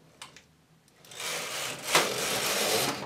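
A jacquard knitting machine working rows of a snood: after a few quiet clicks, a steady rushing whir of the carriage sliding across the needle bed runs continuously and close, with no voices.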